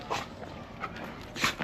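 A new guide dog barks and whimpers in short yips near a school food forest in Dominica, with a few brief bursts spread across the moment and faint footsteps beneath.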